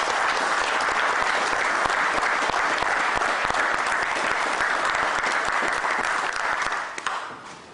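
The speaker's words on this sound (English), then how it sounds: "Can we have an applause for these fine cadets?" Sustained applause from an audience honoring cadets at a Pearl Harbor remembrance ceremony in Knoxville, steady and dense, fading near the end.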